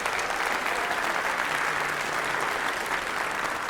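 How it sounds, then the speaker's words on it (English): Sustained applause from a large convocation audience, a dense steady wash of clapping that fills the whole stretch without letting up. "Let's give them a big round of applause."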